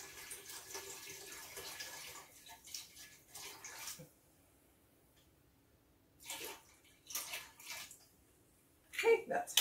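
Wine pours from a bottle into a bowl of holiday punch, a faint liquid stream in a few short bursts separated by pauses, with a louder splash near the end.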